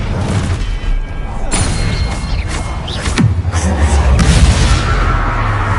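A spell-casting effect from the Hogwarts Legacy video game: a dense, loud magical whoosh with booming impacts and bright crackles near the middle, alone over a steady rumbling game backdrop.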